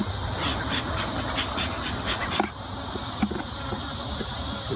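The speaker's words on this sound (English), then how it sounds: "The bees around me are from the other hive that is pissed" A steady, dense insect buzz of many angry honeybees from a neighboring hive droning continuously around, close and fairly loud, with no talking.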